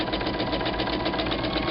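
A sewing machine stitches quilt pieces with a fast, even, continuous rattle, close and steady without pause.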